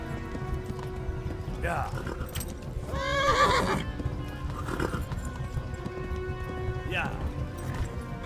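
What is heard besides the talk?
horse hooves in the video game Kingdom Come: Deliverance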